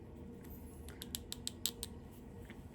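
A plastic joint on an S.H. Figuarts Indiana Jones action figure squeaks and creaks in a series of short, faint, irregular clicks while the joint is worked, close up in a quiet room.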